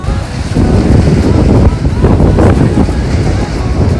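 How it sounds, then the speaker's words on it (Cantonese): Strong gusting wind roars across the microphone on a Dianchi lake beach, with rough waves churning underneath in a loud, steady rush and no voices. "大家可以感受下當時我身處嘅滇池沙灘係幾咁大風大浪"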